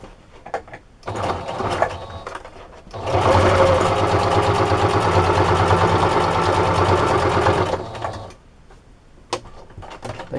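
A sewing machine stitches through a microfiber scrubber sponge, running steadily and loudly for about five seconds after a few short starts, then stopping with brief handling noises at either end.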